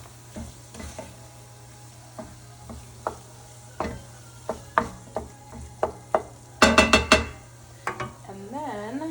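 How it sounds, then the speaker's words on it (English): Enchilada filling being stirred in a hot pan, a spoon scraping in repeated close strokes over a steady sizzle, ending in a quick burst of clinks against the pan. "Stir that up."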